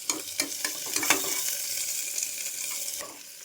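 Onions fry in a pan with a steady sizzle, while a few sharp scrapes and clicks of stirring sound early on and the crackle fades slightly toward the end.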